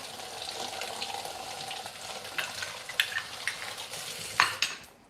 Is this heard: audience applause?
no